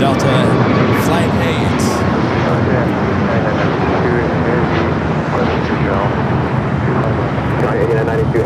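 Airbus A350-900 heavy jet, about nine years old, arriving at Los Angeles International Airport, a steady loud broadband roar of engines holding for the whole stretch with talk mixed in.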